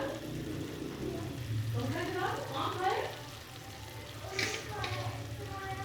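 Green chilies and ginger frying in a pan for dam wala qeema, a steady close sizzle that runs throughout under a voice.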